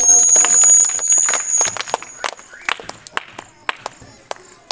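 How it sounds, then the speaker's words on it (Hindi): Loud burst of clapping from a group of students at a Jharkhand public residential school, dense at first and then thinning into scattered individual claps, with a high whistle-like tone near the start. "चलिए बहुत जोरदार ताली मारिएगा उसके लिए।"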